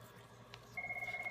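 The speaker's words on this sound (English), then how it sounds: "I have a work phone and it's ringing" A work phone rings faintly with a steady electronic ringtone tone that starts partway through, pulsing quietly in the background of a room.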